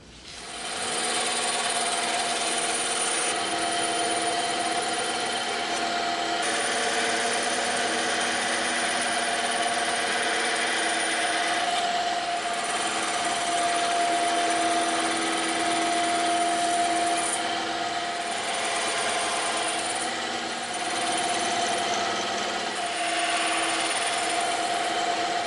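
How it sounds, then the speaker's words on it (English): A bandsaw cuts through EVA foam for a prop knife, a steady, loud motor whine with a cutting hiss that runs almost unbroken for about twenty-five seconds, with small dips as the blade moves through the material and no talking. "Probably just the bandsaw, and we'll cut this out."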